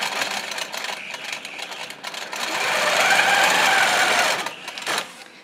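A sewing machine stitches fabric along the edge of a straight quilting ruler. The motor runs in a steady close whir that rises to a fuller, faster run through the middle, then slows and stops.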